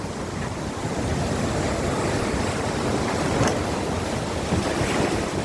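Storm waves pound the shore along a boulevard seawall in Molo, Iloilo City, where houses are being wrecked. There is a continuous loud roar of surf churning, with heavy wind buffeting the microphone and no voices.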